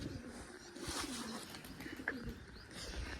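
Pigeons cooing outdoors while part of the flock is let out to fly: soft, repeated low coos, close by and fairly quiet, with a faint chirp in a calm yard.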